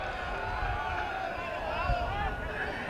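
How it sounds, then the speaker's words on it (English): A home crowd shouts and cheers in approval at a girls soccer final, a steady wash of voices and babble across the whole stretch at moderate, even loudness. "a vocal Valhalla crowd shouting their approval"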